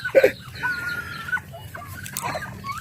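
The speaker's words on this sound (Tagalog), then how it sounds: "Pag-alaga ng mga manok ng native" Backyard native chickens cluck in short bursts close by, with a loud cackle near the start followed by scattered softer clucks from the flock.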